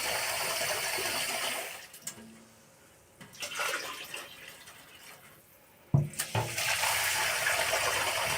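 Water poured into a cooking pot for cauliflower soup, about three litres, making a steady broadband rushing that pauses briefly midway and resumes, close and fairly loud with no voices.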